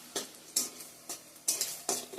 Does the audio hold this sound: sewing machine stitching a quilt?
no